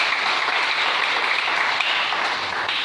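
A church congregation applauding together during a worship service: steady, dense clapping that holds at an even loud level for the whole stretch, with no speech over it.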